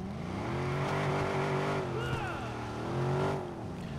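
Car engine in the video game Watch Dogs, a fast racing car: a loud, continuous engine drone rising and falling with shifts and revving, with a brief squeal-like sweep midway, close and steady throughout.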